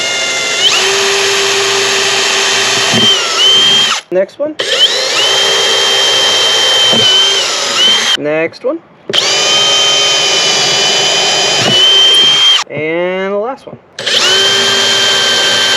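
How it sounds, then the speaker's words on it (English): A power drill whirs steadily in long bursts, drilling pilot holes to install saddlebags on a Honda Rebel 1100 motorcycle, pausing briefly between holes, with a short spoken remark heard over the pauses. "Drill a little pilot hole first."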